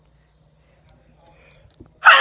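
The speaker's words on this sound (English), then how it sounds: "Okay, I sneezed 2 more times" Person sneezing once, close and loud, a sudden burst at the very end after near silence with a faint breath beforehand.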